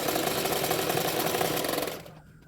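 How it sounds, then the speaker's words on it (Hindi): A sewing machine runs a fast continuous stitch over a blouse belt for about two seconds, close and steady, then stops abruptly. "बेल्ट के ऊपर एक सिलाई डाल दूंगी अभी"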